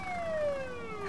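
An ambulance siren at a road accident scene gives a single loud, close, falling electronic wail that sweeps downward over about a second, heard on its own.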